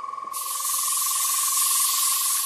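Steady airbrush air hiss blowing over metal colour paint to dry it, starting abruptly after a short quiet moment and continuing close and loud without a break.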